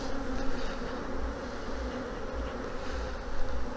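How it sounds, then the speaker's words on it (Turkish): Honeybees buzz around an open beehive being smoked, a steady close hum with droning wingbeats that swell and fade as individual bees pass near. "Gitmek isteyen arı gidiyor buradan."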